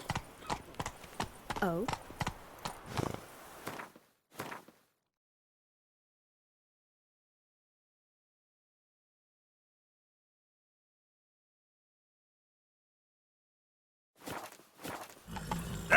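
Horse hooves clip-clop in The Witcher 3: Blood and Wine on Xbox One, with brief talk over the opening steps, then a long silent gap before the hooves return near the end.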